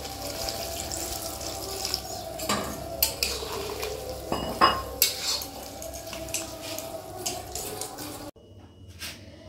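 Chilli chicken gravy bubbling in a pan, a soft continuous sizzle and simmer with a few clinks of a utensil stirring against the pan, ending in a quieter stretch.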